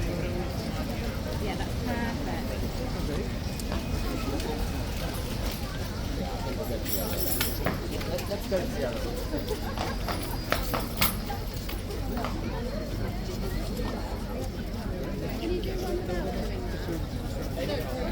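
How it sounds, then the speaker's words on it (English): An unsettled horse clops its hooves in a busy outdoor crowd, the uneven clip-clop steps sitting under steady voices and general babble throughout. "I don't know why the horse is so unsettled."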